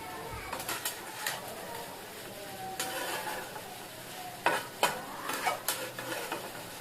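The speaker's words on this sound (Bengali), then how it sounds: "এবার এটাকে নেড়ে দেবো।" A soybean dish frying in a pan is stirred with a utensil, giving scraping strokes and clatters over a low sizzle, close and fairly quiet.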